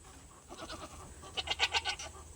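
Goats bleating on a homestead farm, a series of short rhythmic bleats from one or more animals at moderate distance, growing louder and more insistent near the end, with no one talking.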